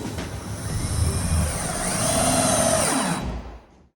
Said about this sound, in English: And what I'm doing now is sanding the seams between each of the subfloor panels.